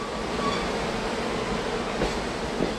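Passenger train cars with a vintage 1920s-style interior roll steadily on rails, a continuous rumble and rattle heard from inside, with no voices.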